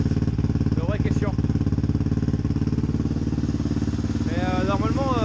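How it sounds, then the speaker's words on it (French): A Yamaha 600XT motorcycle engine idles steadily and close, a continuous thumping single-cylinder rumble running throughout, with someone speaking briefly over it. "il a réussi à démarrer la moto"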